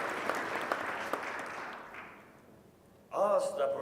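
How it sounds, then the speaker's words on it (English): At an anniversary ceremony for the Republic of Estonia, audience applause fades from a fairly full clatter of clapping into near silence, and then a voice starts speaking close to the microphone. "let's give him a great applause."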